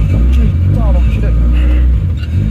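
A car with no power steering, started without a key, rumbles low and close while someone talks over the engine throughout.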